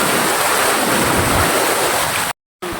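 Steady rushing roar of falling water, close and loud, briefly cut to silence near the end.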